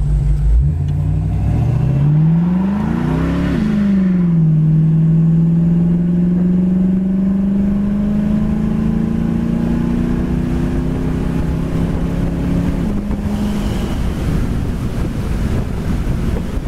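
A triple-black 1966 Ford Mustang convertible with a four-barrel carburetor and disc brakes revs hard, climbs, shifts, then pulls steadily with a rising engine drone under heavy wind buffeting, loud and continuous from inside the open car.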